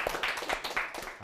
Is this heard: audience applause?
yes